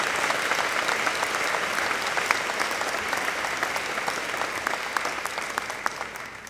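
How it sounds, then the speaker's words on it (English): Commencement audience at the 2013 USM graduation applauding the maintenance, security, housekeeping and food service crews, a sustained dense round of clapping from a large crowd that tapers slightly toward the end, with no voices heard. "please join me in offering them a round of applause"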